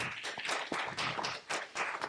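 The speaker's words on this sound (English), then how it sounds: "Applause." Audience applause at a district attorney candidate forum comes as uneven bursts of clapping from a moderately sized crowd, somewhat distant and soft, swelling and dipping over a couple of seconds.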